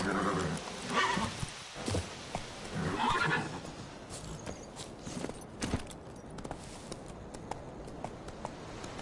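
Roach the horse from The Witcher video game, with several whinnies and neighs over a busy game soundscape and a few clip-clop hoofbeats, fairly close and moderately loud.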